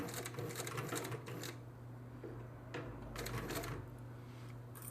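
A cylinder arm treadle sewing machine stitches steadily nearby, its needle clattering in a fast, even rhythm over a low mechanical hum, with brief pauses and restarts as the pace shifts.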